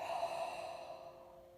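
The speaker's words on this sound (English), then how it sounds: "just breathe in through your nose and then out through your mouth" One slow, deep exhale closes a breathing exercise, a soft airy sigh heard close and alone that fades gently over about a second and a half.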